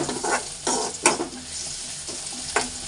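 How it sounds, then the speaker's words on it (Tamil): Onions sauté in oil in a pan for a chicken gravy, a steady sizzle broken by a few scraping stirs of a spoon at irregular intervals, close and alone. "இந்த மாதிரி ஒரு 2 மினிட்ஸ் இப்படி வதக்கிடுங்க"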